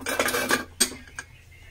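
Metal lid of a pressure cooker being closed in a kitchen, a few sharp clanks and scrapes of metal over about a second, close and fairly quiet, with no talking.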